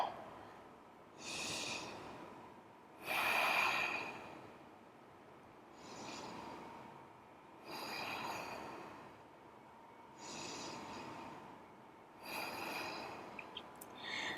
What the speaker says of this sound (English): We'll take a few rounds of breath.